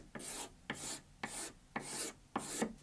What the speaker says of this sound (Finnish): Levitän pinnalle tärpättiä nähdäkseni sen tilan.